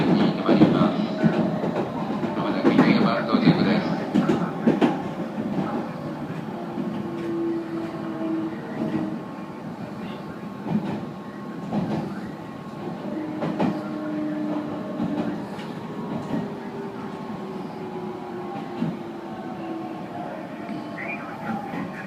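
A train rolls along a railway near Inuyama, Japan, with a steady rumble, rattling carriages and faint squeals heard from on board, fairly loud and continuous throughout.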